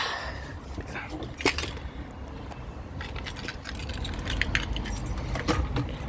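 Keys jangle and clink close by in a few bright bursts, followed by scraping and rattling as a key is worked into the ignition of an ATV unused for two months.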